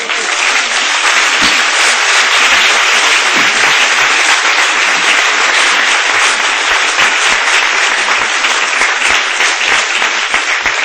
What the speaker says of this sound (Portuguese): E se você crê, pode aplaudir o Senhor.